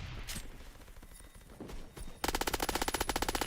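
Automatic weapon fire in the shooter game Phantom Forces: muffled busy action first, then a loud, rapid ratcheting burst of evenly spaced shots rattling on for over a second.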